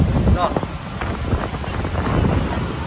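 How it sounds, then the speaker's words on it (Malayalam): A boat speeds up across the open sea on a long deep-sea trip, its engine rush mixed with strong wind buffeting the microphone while people talk over the noise. "ബോട്ട് സ്പീഡ് കൂടി ഭയങ്കര സ്പീഡിലോട്ട് പോകണോ?"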